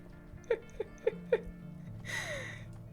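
A stray cat in the adventure game Hob's Barrow gives four short, soft meow-like calls in a steady rhythm, followed by a brighter whooshing chime over a low ambient hum.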